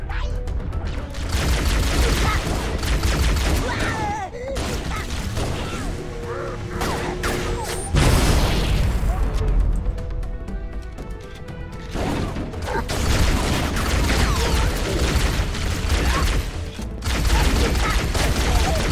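Pistol shots in the video game Halo Combat Evolved ring out in repeated loud bursts amid crashes and explosions, dense and close throughout a hectic firefight.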